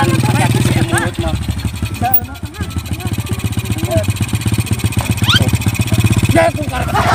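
An old motorcycle engine chugs loudly and close by in a rapid, steady putter, with people talking over it throughout.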